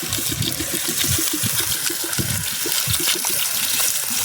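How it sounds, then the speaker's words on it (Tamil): Water poured into a pan of mutton curry cooking outdoors beside the Bhavanisagar river, a steady close splashing gush mixed with bubbling and sizzling for the whole stretch. "தேவையான அளவு தண்ணி ஊற்றிக்கலாம்."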